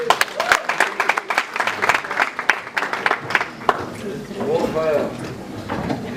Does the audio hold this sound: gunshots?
no